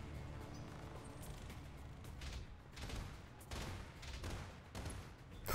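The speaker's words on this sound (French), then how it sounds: "J'aurais dû faire un gros boom, genre un canon" Cannon fire in the mech combat video game Battletech: a series of heavy, booming shots that land in uneven bursts, loud and close, over a rumbling low background with no talking.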